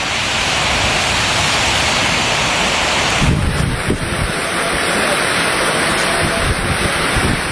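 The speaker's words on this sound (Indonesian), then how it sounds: "Video amatir merekam saat hujan deras disertai angin ribut melanda kota Jember" Heavy rain and strong storm winds pound the city of Jember in East Java as a loud, unbroken roar that holds steady throughout, with a brief gust or thump partway through.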